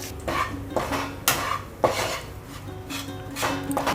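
A metal spoon stirs buckwheat flour in ghee in a hot kadai over a low flame. It gives a run of sharp scraping clinks against the pan at an uneven rhythm, close and clear, with no voices.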